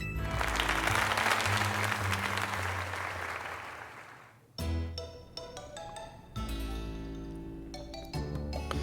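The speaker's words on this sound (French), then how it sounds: "Allons, tout le monde, applaudissons Kradaes comme il se doit." Crowd applause in Pokémon Legends Z-A swells loudly for about four seconds and fades, followed by bright chiming game jingle tones.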